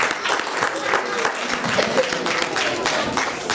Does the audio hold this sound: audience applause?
yes